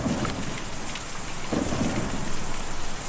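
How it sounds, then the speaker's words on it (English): Steady heavy rain pours in a Kentucky Route Zero storm, with two low rolls of thunder rumbling through the downpour, close and enveloping with no voices. "I feel like I'm in a storm."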